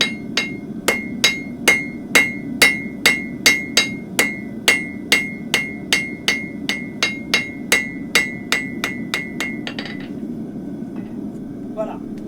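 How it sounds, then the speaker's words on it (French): A hammer's flat face strikes the tip of a metal hoof pick again and again, about twenty sharp ringing blows in a steady, even rhythm, close and loud, then stopping. "je vais venir dégager la flamme avec le plat de mon marteau"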